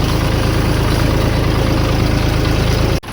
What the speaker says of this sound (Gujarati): આ છે વિસનભાઈ ટ્રેક્ટર